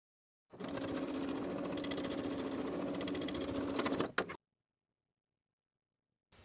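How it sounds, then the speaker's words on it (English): A sewing machine runs steadily for about three and a half seconds, top stitching along the bottom folded edge of a garment's top portion, then stops abruptly, followed by silence. "Top stitch along the bottom folded edge of the top portion."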